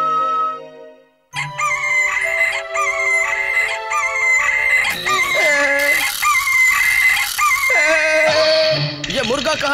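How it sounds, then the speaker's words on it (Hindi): A cartoon rooster crows, loud and close, in a series of drawn-out cock-a-doodle-doo calls that rise and fall over about eight seconds after a brief quiet opening, with comic clucking and squawking tones mixed in. "ये मुर्गा कहाँ से आ गया?"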